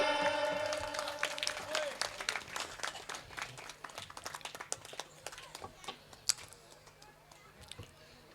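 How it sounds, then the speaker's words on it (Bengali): An audience at a stage program bursts into applause that starts dense and loud, then thins into scattered, separate claps that fade out over several seconds, with a distant voice faintly underneath. "সকলে একবার হাততালি মারবেন।"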